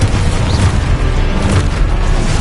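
A spell blast from Hogwarts Legacy, a dense continuous booming roar that fills the whole stretch loudly and close, with rumbling low end and no speech.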